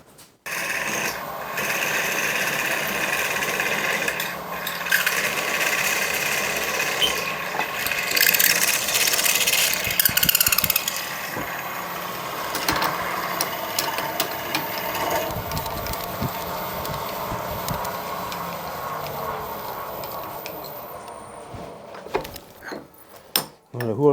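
A power drill bores a hole a few thou under 3/8 inch through an alloy step part during a Range Rover step repair, grinding steadily for about twenty seconds before trailing off into a few clanks.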